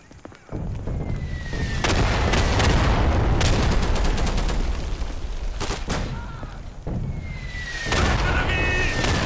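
Battle noise in the WW2 shooter Day of Infamy: continuous loud rifle and machine-gun fire with heavy artillery booms and explosions, several sharp close cracks standing out over a dense rumbling backdrop.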